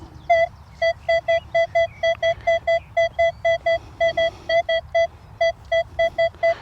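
A Minelab Manticore metal detector sounds a steady series of short, evenly spaced electronic beeps over a cut quarter hammered coin, a clear repeating tone with upper harmonics and no talking.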